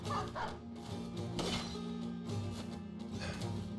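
Dogs in the tactical fantasy game Battle Brothers bark repeatedly in short, fairly loud bursts over a steady low game soundscape, with no talking.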